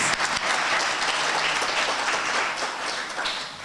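People at the Hope Givers Foundation media launch in Limpopo clap their hands, a close, dense round of applause from a crowd that stays loud and even before tapering slightly at the end.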